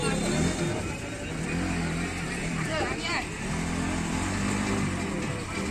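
A motorcycle engine revs unevenly as the bike is eased off a boat during the monsoon, its droning pitch rising and falling amid steady background noise while people talk nearby.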